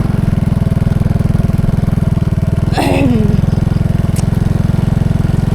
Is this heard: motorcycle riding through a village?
yes